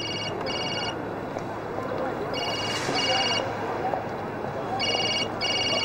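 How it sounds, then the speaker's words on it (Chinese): A telephone rings in bursts of electronic tones at an airport gate, with several ring cycles repeating over steady crowd noise and a low hum. "我先去接个电话啊"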